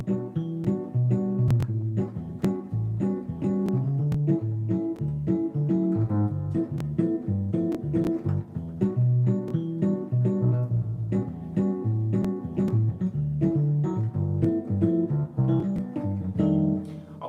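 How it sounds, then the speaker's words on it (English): Rhodes electric piano plays a song in a relaxed bossa nova style, warm chords and melody flowing steadily and close up for the whole stretch, with no voices. "I often play with Rhodes, and I'll play it like this."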